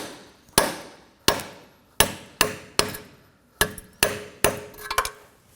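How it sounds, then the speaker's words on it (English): A pry bar is tapped against the inner end of a front right CV axle on a 2014-2020 Acura MDX 3.5L V6: about nine sharp metallic knocks at an uneven, steady pace, close and loud, with no talking. "we're going to use a pry bar, and we're going to tap on the inner part of the axle just to get it off"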